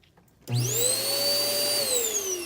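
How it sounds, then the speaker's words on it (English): A central vacuum in a 2018 Sandpiper 372LOK fifth wheel RV starts up abruptly and runs with a loud, steady whine and a high tonal hum that shifts slightly in pitch, alone and close. "your Sandpiper does have a central vac, so you can plug in your hose"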